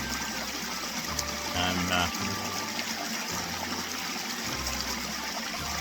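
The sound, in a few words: stream water flowing under a bridge in Scotland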